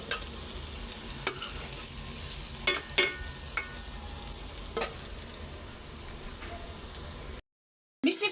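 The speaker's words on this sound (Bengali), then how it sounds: "মিষ্টি কুমড়াটা ভাজতে দিয়ে" Sweet pumpkin slices fry in a pan in a home kitchen, giving a steady close sizzle with occasional sharper pops and crackles, no voices, until a short break near the end.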